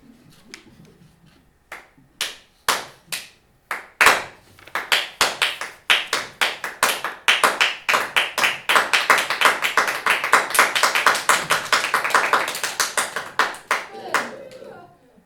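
An audience starts with a few scattered, isolated claps that quickly swell into full, loud applause. The applause holds for several seconds, then tapers off near the end.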